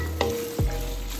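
Prawns and garlic stirred in a hot sizzling pan, a couple of quick scraping strokes over a steady close fry, with no voices.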